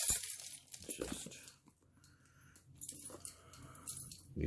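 A set of keys jangling and clinking as they are used to pry open a bottle, bursts of metallic rattling close by separated by a short quiet pause.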